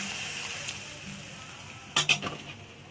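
Mango sour curry simmers in a pan after water has been added, giving a steady soft bubbling hiss. A brief clatter of a utensil against the pan stands out near the end.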